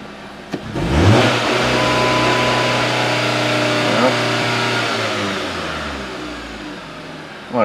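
A Chrysler-built Jeep Patriot with a crank sensor fault cranks and fires, then the engine revs and settles into a steady, loud running note close by, with a brief rise near the end.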